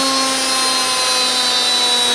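A washing machine motor mounted on a workbench test rig gives a loud, steady electric whine with a constant hum and no change in pitch across the stretch.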